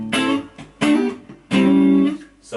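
An electric guitar plays a clean tone through a 1965 Fender Pro Reverb amplifier, sounding as a few loud, ringing chords or notes struck one after another close up, with no talking.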